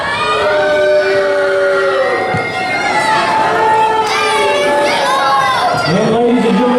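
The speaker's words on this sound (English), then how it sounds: "cheer for the Destroyer" A wrestling arena crowd cheers and shouts for the wrestler the Destroyer, a loud dense roar with whistles and yells rising and falling throughout, close and continuous.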